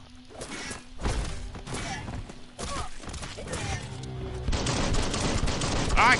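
Enemy gunfire from the Biomutant video game rattles at the player in repeated bursts, with sharp impacts and crashes that grow denser and louder toward the end.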